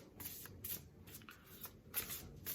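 A deck of playing cards is shuffled in rapid riffling bursts, soft and close, repeating several times in quick succession.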